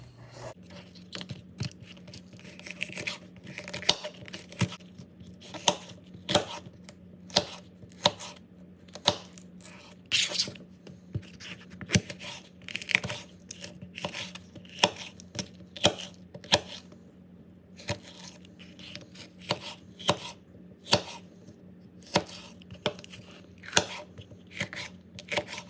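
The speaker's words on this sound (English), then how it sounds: "I still have one more to chop up, and I'm going to combine the bell peppers and the onions" A knife chops bell peppers and onions on a cutting board in a home kitchen, giving sharp, close taps in a steady, fairly quick rhythm with a few short pauses, heard alone over a low hum.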